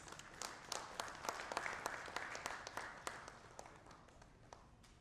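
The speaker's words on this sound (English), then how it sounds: "I would request our lovely audience to please greet it with a huge round of applause" Applause at the inauguration of the Cyber Security Congress 2022 in Kolkata: faint, scattered individual claps from a modest audience, irregular and somewhat distant.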